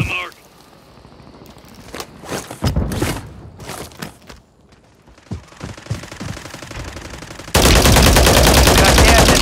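Video game gunfire in a battle royale match comes as scattered bursts of shots, some close and sharp and others farther off. A loud continuous roar fills the last stretch, and game sounds mix in around the shooting.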